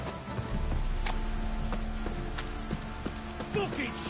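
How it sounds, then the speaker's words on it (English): Heavy rain pours steadily over the open world in The Witcher 3, with hoof clops and scattered game effects mixed into the wash, close and fairly loud throughout the short stretch. "This downpour's a bastard, it is."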